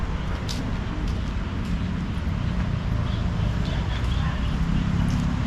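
Horse hooves clip-clopping steadily on pavement as the horse pulls a buggy on a tour of ancient ruins in Chiang Mai, Thailand, under constant road and traffic noise.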